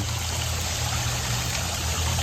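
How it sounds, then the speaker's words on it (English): Steady water trickles and babbles continuously down a garden stream of a pondless waterfall, a dense even wash of flowing sound with no voices or pauses. "We have this stream, which I really liked how it turned out"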